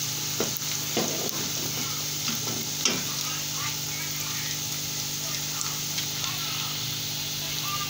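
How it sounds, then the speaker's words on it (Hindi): Garlic and ginger sizzle steadily in hot oil for a potato and spinach dish, with occasional scraping stirs and clatter from a utensil in the pan. "हमने फ़ौरन लहसुन अदरक शामिल कर दिया"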